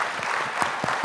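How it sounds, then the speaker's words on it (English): An audience gives a brief round of applause for a national award winner, a dense burst of many hands clapping together, steady and fairly loud for about a second. "So first give him a round of applause,"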